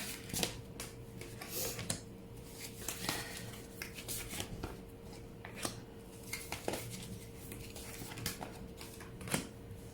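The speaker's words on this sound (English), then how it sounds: "While I am shuffling the cards here, setting up the reading" Tarot cards are shuffled by hand at close range, producing quiet irregular riffles and soft slaps with occasional sharper clicks.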